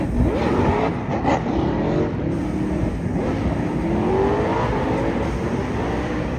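Quad rotor VL drift car on a 370z chassis revving hard at a drift event, a loud raspy engine rising and falling in pitch with rapid throttle changes, close by and continuous.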